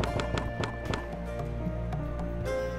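A horse's hooves clip-clop in the fantasy strategy game KeeperRL, a run of sharp rhythmic knocks that thins out over a steady tonal background.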